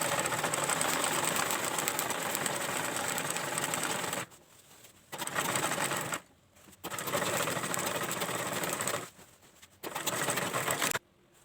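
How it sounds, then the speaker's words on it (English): A sewing machine stitches a straight seam on a small fabric traveling bag, a loud, close, continuous mechanical whir that stops and restarts four times in roughly two-second runs. "I'm going to sew it straight down."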